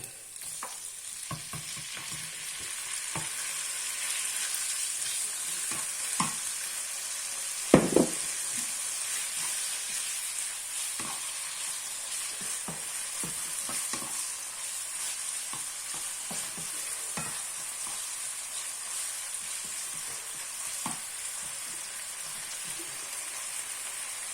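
Garlic and pork stir-fry in a pan with a continuous soft sizzle, broken by scattered scraping and clattering stirs and one sharper knock midway, with no talking.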